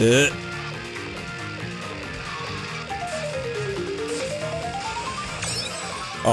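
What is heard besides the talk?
music notes when driving over Music Park, Mario Kart 7 video game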